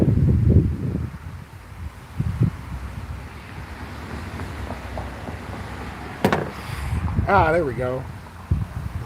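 Strong wind buffets a microphone outdoors with rumbling gusts that rise and fall throughout, while someone speaks briefly over the noise.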